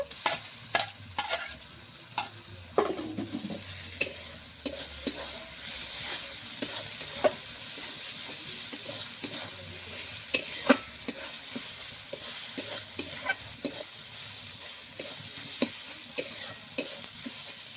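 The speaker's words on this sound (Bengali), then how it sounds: "ভালো করে মশলাটা একটু কষিয়ে নেব" Spice paste with ground ginger fries and is stirred in a pan at an outdoor winter picnic, a soft steady sizzle broken by repeated spatula scrapes and taps.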